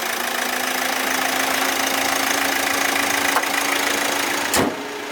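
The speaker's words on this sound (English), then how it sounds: "Let's see what's the noise is. So here is the noise." A Hyundai Creta diesel engine runs steadily with the bonnet open, a close, continuous mechanical drone with a faint steady whine, then a brief thump near the end.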